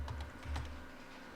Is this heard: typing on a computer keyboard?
yes